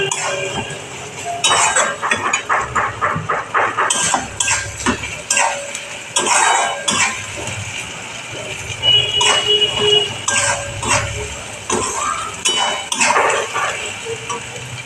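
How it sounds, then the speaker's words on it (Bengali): Country chicken curry with salt added, stirred in a pan with a metal spoon: repeated clinks and scrapes against the pan in a steady, busy rhythm, close and fairly loud. "এবার নুন দিয়ে দিলাম, খানিকক্ষণ নাড়াবো।"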